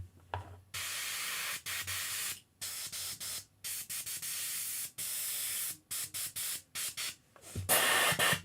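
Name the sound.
airbrush spraying thinned paint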